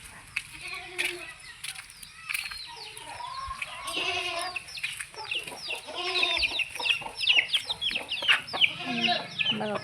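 Chickens cluck and squawk around a farmyard at feeding time, a busy mix of short calls that grows louder, with faint rustling and occasional bleats in the background.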